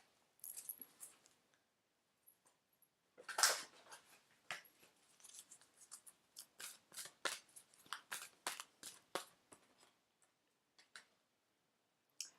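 Oracle cards handled and shuffled for a reading, a quiet close run of crisp papery riffles and flicks in quick irregular bursts with a sharper slap partway through, and no talk.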